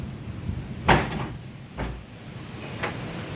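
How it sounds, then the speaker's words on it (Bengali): Doors and windows bang in storm wind during a monsoon cyclone, three sharp knocks spaced about a second apart, the first the loudest, over a dull rushing background. "দরজা জানালায় খুব টাস টাস শব্দ হচ্ছে"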